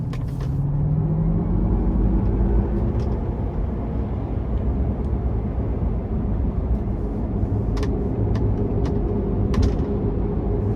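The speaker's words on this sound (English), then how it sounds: "I'm giving it a little throttle coming in this corner here." A 2023 GMC Hummer EV 3X rolls into a corner under light throttle, heard from inside as a steady low road rumble with a faint rising electric motor whine and a few small ticks and knocks.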